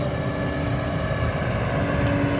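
A heavy diesel engine of a Kobelco SK200 excavator rumbles steadily and close, with a low groaning hum running under the noise.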